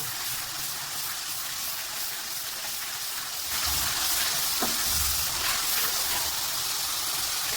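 Onions frying in a pan over high heat for daal chawal give a steady, close sizzle that swells louder about halfway through and keeps hissing to the end.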